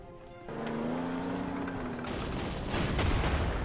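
Bombing and gunfire from the World War II strategy video game Panzer Corps, a muffled rumbling blast with a falling tone followed by a louder burst of crackling fire, fairly quiet overall.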